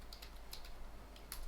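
Fast keystrokes on a computer keyboard while coding a React Native app, a brief burst of light clicks close by, with a short pause before a final pair of taps.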